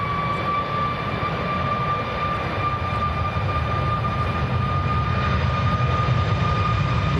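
A Ryanair Boeing 737 MAX jet takes off at Manchester Airport, its engines a steady, broad roar with a thin whine on top, loud and continuous throughout with no talk.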